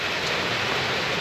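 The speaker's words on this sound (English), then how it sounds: "in the rain and the wind" Steady rain and wind outdoors give a dense, even hiss, close and continuous, with no voices.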